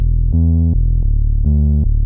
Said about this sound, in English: start with this very sort of subby deep bass sound that I have